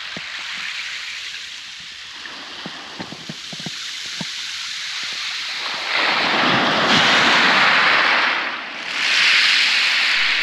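Sea waves surge and wash onto the shingle of Chesil Beach in Dorset on a winter day, with steady wind buffeting the microphone, the surf swelling louder midway and holding close and full.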